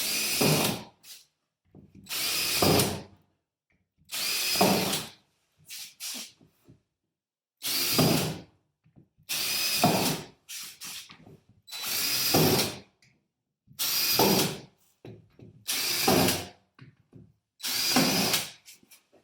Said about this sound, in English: You want to drill holes like that all the way around the feeder.